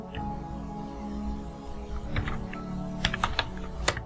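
Keys tap on a computer keyboard in short irregular bursts, a few soft strokes then a quicker cluster of clicks, close and fairly quiet over a steady background hum, no talk.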